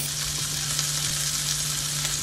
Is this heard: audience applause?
no